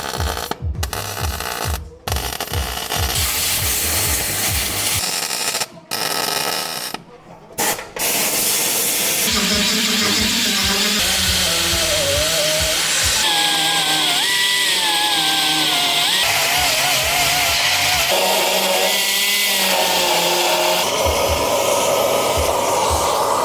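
A power sander works the rear body metal of an Audi 100 LS C1 during rust repair. Loud, close grinding starts and stops a few times, then runs continuously with a shifting whine.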